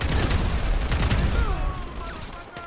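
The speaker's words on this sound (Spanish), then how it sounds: "yo me caigo así. O sea, disparo para todo lado." Rapid, continuous machine pistol gunfire in GTA 5 rattles loudly, then thins out into scattered shots with whizzing and ringing effects.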